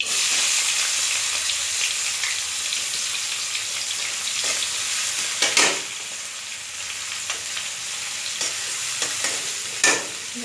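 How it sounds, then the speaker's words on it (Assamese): Freshly chopped onions hitting hot oil left over from frying fish, a bright continuous sizzle close up with occasional louder spatters and stirring bursts, no talking. "সেইখিনি তেলতে মই এয়া কাটি লোৱা পিঁয়াজখিনি দি দিম"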